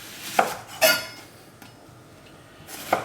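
A kitchen knife slices an onion in half on a cutting board, giving two sharp, close knocks of the blade against the board followed by a quieter third tap, in a quiet kitchen with no talk.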